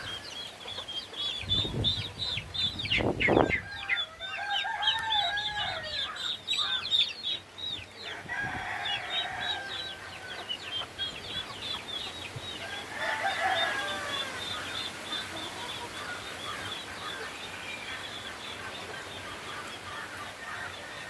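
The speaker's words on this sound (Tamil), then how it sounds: "பெண்டம் என்று சொல்லக்கூடிய அந்த கோழி, அந்த சின்ன கோழி, அழகான கோழி" Bantam chickens on an organic farm cluck repeatedly and let out crows, with other birds calling and a brief flutter of wings amid steady outdoor background sound.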